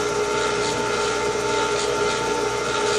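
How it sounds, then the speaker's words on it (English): Motor of a Prazi SD300 lathe running, a steady continuous whine with a strong tonal hum, close and loud and unchanging throughout, with no talking. "So the lathe does have a reversible motor on it"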